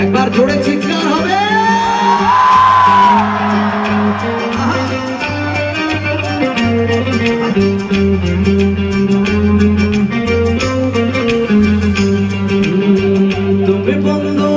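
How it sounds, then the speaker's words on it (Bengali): Live music performance with a crowd whooping and shouting loudly over a pounding band, the cheering peaking early and then sinking under the steady music. "একবার জোরে চিৎকার হবে"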